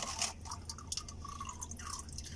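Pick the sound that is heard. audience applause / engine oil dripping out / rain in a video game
engine oil dripping out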